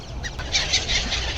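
A flock of birds crowds around a boat to be fed, with dense, close chirping and squawking over a low, steady rumble.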